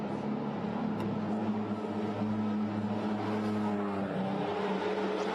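Porsche race cars at Zandvoort circuit, steady engine drone with layered harmonic tones as cars run toward and into the pit lane, continuous and fairly close with no talk over it.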